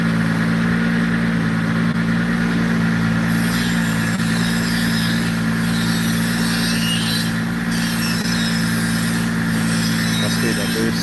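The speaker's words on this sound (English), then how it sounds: "Sounds so good on the dyno" Car engine holding a steady drone on a dyno with boost spooling, a constant loud mid-low hum filling the whole stretch with slight variation and a faint voice underneath.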